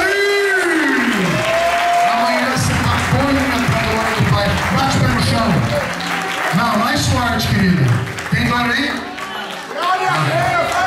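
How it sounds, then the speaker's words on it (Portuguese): Church congregation applauding loudly at a Pentecostal healing service, dense clapping and cheering mixed with a preacher's amplified shouting and crowd voices throughout. "Aplaude!"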